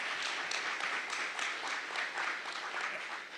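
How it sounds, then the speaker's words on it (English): Audience applause filling a hall, dense steady clapping from many hands at moderate volume, continuous throughout and tapering slightly at the end. "that deserves an applause"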